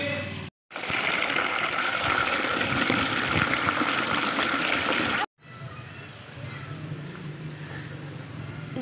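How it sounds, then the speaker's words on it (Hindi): Water stirred by hand in a container while making sharbat in hot Karachi weather: a steady, close swishing and sloshing that stops briefly near the start, then continues more softly after a second short break. "पानी हलाए रहे हूं"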